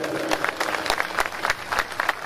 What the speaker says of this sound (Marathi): एकदा जोरदार त्याच्याकरता आपण टाळ्या वाजवूयात